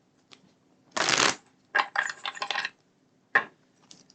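Tarot cards being shuffled, a long riffling burst followed by several shorter shuffles and a single sharp snap, close and fairly loud in a quiet room.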